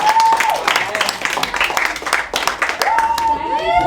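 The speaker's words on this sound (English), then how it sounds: "Let's give Craig a big hand of applause" A small group claps for a person named Craig outdoors, uneven hand claps, close and loud, with whistles and voices chattering over them.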